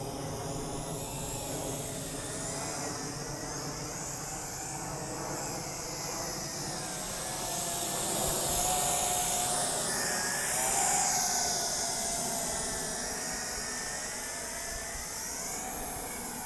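A Tarantula X6 quadcopter drone fitted with a spotlight mod flies low at night, its rotors giving a steady, loud, high-pitched whine that swells and dips in pitch as it maneuvers.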